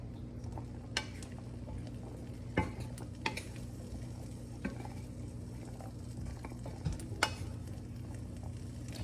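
Chickpeas frying in a pan over medium-high heat, a faint steady sizzle with occasional soft clicks and scrapes of stirring, heard alone without talk.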